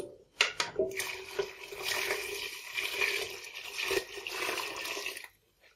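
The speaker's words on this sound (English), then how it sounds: "All you're doing is pouring in the boiling water" Boiling water, freshly boiled about thirty seconds earlier, pours steadily into blackberry (bramble) puree for homemade wine, a continuous close splashing stream lasting several seconds before it stops.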